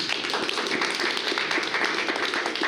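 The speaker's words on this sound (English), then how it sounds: "Clap for yourselves." Members of a Nigerian community gathering clap together, a moderately quiet but steady patter of many hands with individual claps audible throughout.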